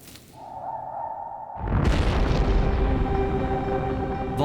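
A volcanic eruption boom breaks in after a low tone, building into a deep, sustained roar that fills the space, loud and rumbling over a thin background hum.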